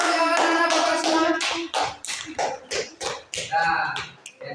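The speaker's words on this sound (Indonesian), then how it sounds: "tepuk tangan untuk anak-anak bapak semua" A group of children claps hands in a patterned rhythm, a run of sharp claps that spreads into separated bursts, close and lively, mixed with some voices.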